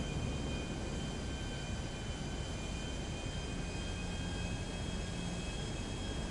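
Jet engines of a Miljet roar steadily as it takes off from a runway in GTA Online, a constant broad rumble with high whining tones, loud and unbroken, with no voices.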